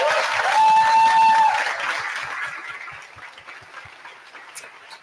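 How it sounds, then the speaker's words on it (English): An audience at a Gaza solidarity event in Johannesburg gives a final round of applause to a panel. The clapping is loud at first, then thins and fades into scattered claps, with a brief tone near the start. "Please join me in giving a final round of applause to our panel."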